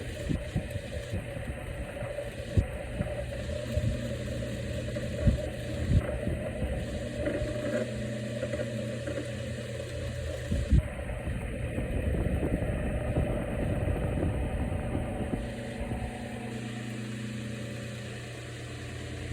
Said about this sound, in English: Now let's see if the oscillation still works. The gear's still turning.